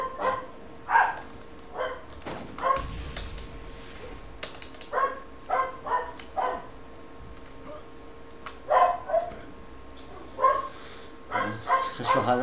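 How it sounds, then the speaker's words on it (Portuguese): Dogs in a co-op video game bark repeatedly in scattered bursts, some yips and whimpers among them, over a steady background hum and some muffled voices. "Cachorrada poder latir à vontade"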